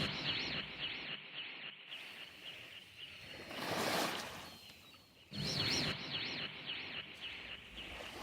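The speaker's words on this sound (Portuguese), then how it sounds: "misturar o som das gaivotas, processado com o do mar e a imagem" Processed seagull calls layered over sea sound, wavering warbled cries in two bursts separated by a swelling wash of surf-like noise, moderately quiet and with no voices.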